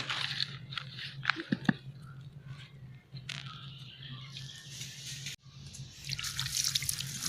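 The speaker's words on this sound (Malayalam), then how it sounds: "ഇനി നനച്ച് കൊടുക്കാം ചെറുതായിട്ട് ഇങ്ങനെ നനച്ച് കൊടുക്കാം" Water is poured gently over the soil of a newly planted potted miracle fruit plant, giving soft trickling and dripping with a steady low hiss and a few sharper splashes, close by and with no talking.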